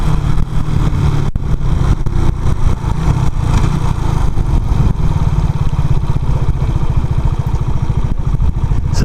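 A Suzuki GN125 motorcycle engine rumbles loud and close throughout, its rapid throbbing beat holding steady as the bike rides along.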